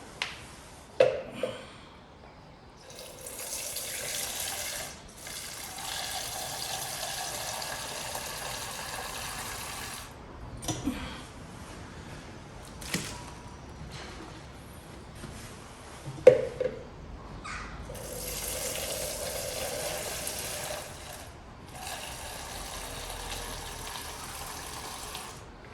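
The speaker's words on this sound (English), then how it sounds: "typically I'll do 5 or 6 jugs just out of the bottom and tip into the top" Brewing liquid run from the bottom of a vessel into jugs and tipped back into the top, heard as quiet, repeated spells of pouring and gushing water separated by short gaps and soft clunks.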